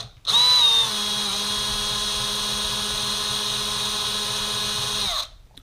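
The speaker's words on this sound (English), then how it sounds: "Using a small drill bit here, these are smaller rivets, so they do not take as much drilling to be removed." A small drill bit bores out the heads of small rivets on a 1/64 scale DCP IH Prostar die-cast model truck, giving a steady, close, high-pitched whine that runs for about five seconds with no talking.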